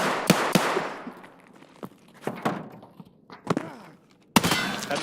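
Sharp bursts and thuds from a firefight in Escape from Tarkov as a grenade comes into play, several loud separate blasts spread over a few seconds with quieter gaps between.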